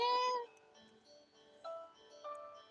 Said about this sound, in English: The kitten sympathetically cries out